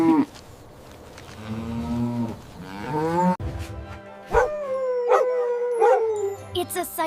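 A cow moos in a long, drawn-out call with rising and falling pitch, loud and close, followed by a brighter animal call with repeated sharp yelps toward the end.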